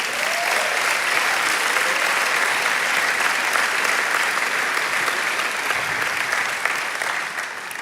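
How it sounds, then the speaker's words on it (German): A church congregation at a Sunday night service applauds, a dense, steady wash of clapping from many hands that holds loud throughout and eases slightly at the end. "Lass uns ihm einen Applaus geben für das."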